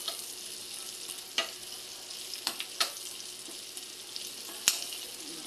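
Garlic and onion fry with fatty meat in a pan, giving a quiet steady sizzle broken by sharp scattered pops and splatters, with no talk.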